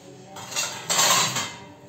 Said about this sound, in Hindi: तो आप कोई भी बर्तन ले लीजिए और उस पर जो है आलू को हम ग्रेट कर लेते हैं।